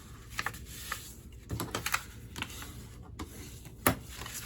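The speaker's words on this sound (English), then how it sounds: "Give them a good burnish." Folded cardstock gift box being burnished along its score lines, giving soft, irregular rubbing and tapping scrapes in short bursts, close and fairly quiet.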